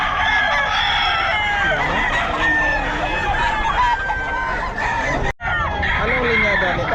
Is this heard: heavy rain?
no